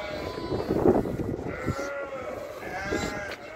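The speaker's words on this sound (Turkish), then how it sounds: "Damızı özelliği bitmiş kesilmiş koyunlar." Cull sheep on a large farm on the Konya plain, bleating nearby in a flock, several overlapping calls over a steady background of animal noise with no talk.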